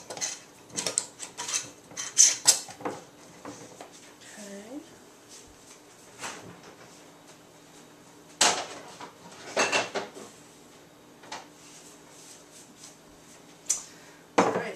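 Rummaging through kitchenware for a canning jar lid: scattered clatters of metal and glass, drawer knocks and rattling in bursts with quiet gaps, while a person talks at moments.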